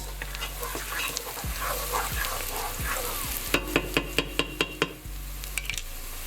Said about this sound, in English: I'll drop that garlic in, give it a mix.